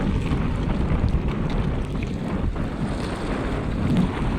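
Outboard motor running on a small boat in rough sea with big waves, a steady engine drone buried under heavy wind buffeting and water noise, constant and close throughout.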